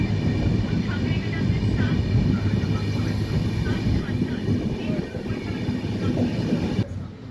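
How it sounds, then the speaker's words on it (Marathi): The Hutatma Express train rolls slowly through Pakni station, a loud steady rumble with faint wheel clatter heard from on board, continuous for several seconds and easing slightly near the end. "सध्या आपली ट्रेन जी आहे ती हळूहळू पाकणी रेल्वे स्टेशन जे आहे ते स्किप करत आहे"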